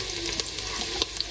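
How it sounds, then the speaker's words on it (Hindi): Onion frying in a pan with ginger, garlic and green chilli paste added, a brief, steady close sizzle with small crackles and stirring scrapes. "ये मैंने लिया है एक छोटा प्याज और उसको मैं बस ब्राउन करूँगी"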